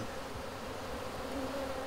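Normandy black honeybees buzzing steadily at a hive in a conservation apiary, a dense continuous hum of many insects, close and unbroken, slightly agitated.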